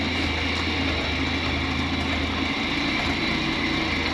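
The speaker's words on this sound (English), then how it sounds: "Yeah, these B-series engines run so smoothly." Rover B60 six-cylinder B-series engine idling in a Ferret armoured car with the turret off, a smooth, steady low hum with an even drone and no revving, continuous and close.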